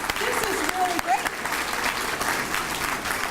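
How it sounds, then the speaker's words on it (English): At an adult basic education commencement ceremony, an audience claps in a short, steady burst with a voice briefly speaking over it. "Let's give you a round of applause."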